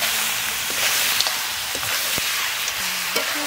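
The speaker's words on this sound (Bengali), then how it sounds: "মশলাটা কষানো হয়ে গেছে এবার মাংসটা দিয়ে দিচ্ছি" Duck meat dropped into spice paste frying in a pan, a steady loud sizzle with a few sharp crackles and pops and the scrape of stirring.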